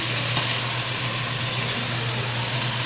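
Filipino food sautéing in a pan, a constant dense sizzle with a low steady hum underneath, close and even throughout.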